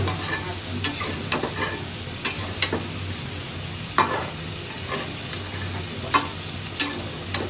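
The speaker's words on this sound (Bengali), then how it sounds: "এই যে বন্ধুরা আমাদের প্রায় চিংড়ি কষা নিয়ে গেছে" Shrimp are sautéed and stirred in a hot pan, with a steady frying sizzle and occasional sharp scrapes and knocks of the spoon against the pan at irregular intervals.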